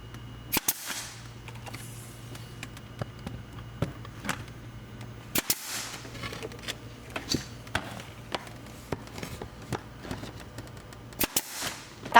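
A nail gun driving nails into wooden trim, firing as several sharp, isolated cracks spread over a quiet stretch, with faint handling noises in between.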